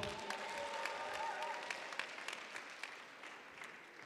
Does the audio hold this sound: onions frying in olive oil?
no